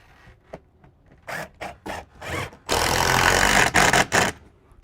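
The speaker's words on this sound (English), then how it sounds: "I'm going to add a few more screws at each blocking area." A power driver sinks screws into the blocking of a faux wood beam: several short whirring bursts, then one long loud run and a few more quick pulses, all close by.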